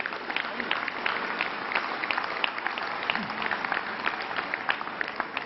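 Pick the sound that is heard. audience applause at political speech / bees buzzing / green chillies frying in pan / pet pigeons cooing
audience applause at political speech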